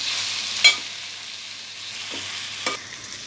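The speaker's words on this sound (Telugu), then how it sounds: "బాగా ఫ్రై అయిన తర్వాత ఒక 15 మినిట్స్ వరకు హై ఫ్లేమ్లో పెట్టి ఫ్రై చేసుకోవచ్చు." Chicken frying over a high flame gives a low, steady sizzling hiss, with a couple of sharp clinks of a utensil against the pan.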